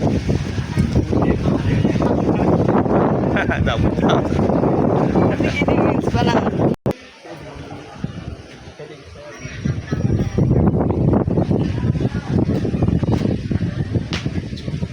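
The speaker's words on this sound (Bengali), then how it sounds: "বাতাস, হেভি বাতাস," Strong wind buffets the microphone at a rural railway station, a loud continuous roar and rumble with a brief drop in the middle before gusting back just as hard.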